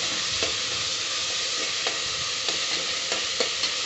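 Finely chopped tomato being stirred and sautéed in a pan for goat intestine curry gives a continuous loud sizzle, broken by regular soft scrapes of a spoon against the pan, with no voices.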